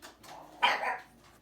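A household dog gives a short bark or yip indoors, faint and somewhat distant, with a few quieter whimpering sounds around it and no talk.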